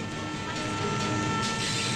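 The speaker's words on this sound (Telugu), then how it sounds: "అరే ట్రైన్ వెళ్ళిపోతుంది" A train pulls out of a station with a steady, close rumble and a faint rhythmic clatter, no voices over it.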